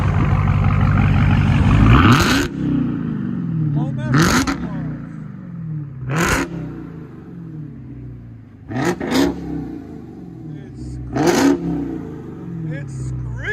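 A 2020 Dodge Charger SRT Hellcat widebody's 6.2L HEMI V8 revs hard in repeated bursts through an aftermarket exhaust, each sharp climb falling back to a throaty idle, with people talking over it.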